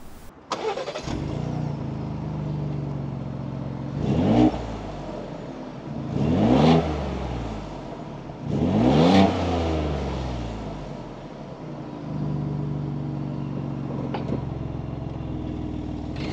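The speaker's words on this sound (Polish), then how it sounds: "A jak brzmi wydech?" Ford Bronco from 2023 with a 2.7-litre twin-turbo V6 EcoBoost engine, heard at the exhaust: the engine starts, then idles, then gives three sharp revs about two seconds apart that rise and fall, settling back to a steady idle, with no talking.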